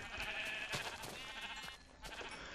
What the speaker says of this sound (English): Many a sheep!